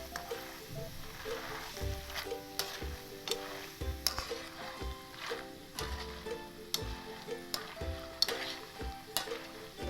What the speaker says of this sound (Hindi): खूबसूरत तरीके से हमारे पीनट्स फ्राई हो रहे हैं। चम्मच हमने चलाते रहना, चम्मच बंद नहीं करना।